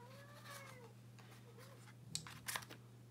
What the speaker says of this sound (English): My cat's over there meowing.